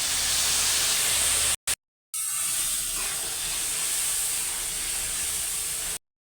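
Ginger, cumin and chilli paste goes into hot oil with fried potatoes and sets off a strong, steady hiss. A short gap interrupts it, then a loud broadband sizzle runs for several seconds before stopping abruptly.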